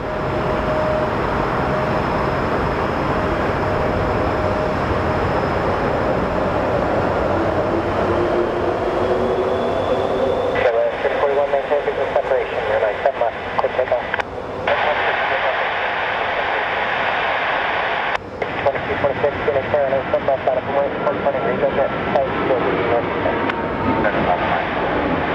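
A United airliner takes off at Phoenix Sky Harbor Airport: a loud, continuous jet roar holds steady, with a crackling radio voice talking over it partway through.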